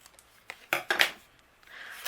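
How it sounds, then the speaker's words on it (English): A few quick, crisp snips of scissors cutting through stiff card, close by, clustered in under half a second, with quiet room tone around them. "My scissors, and I'm going to trim an angle off the top on the right and the left"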